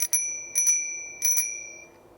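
A newly fitted bicycle bell on a Vamos El Rapido commuter e-bike rings three times in quick succession, bright close metallic dings with a lingering shimmer after each strike, heard clearly with no talking.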